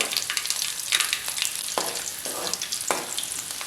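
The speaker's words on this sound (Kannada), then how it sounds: "ಬೆಳ್ಳುಳ್ಳಿಯನ್ನು ಹಾಕಿ ಇದನ್ನು ಸ್ವಲ್ಪ ಹುರಿದುಕೊಳ್ಬೇಕು" Garlic frying in hot oil after a mustard-seed tempering for a greens stir-fry: a close, loud, continuous sizzle with crackling bursts and several scraping stirs of a spatula.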